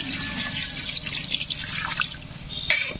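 A little water is poured into a pan holding a paste of coconut, cashew and fried onion for village-style chicken korma, making a steady splashy trickle up close with a few brief drips near the end.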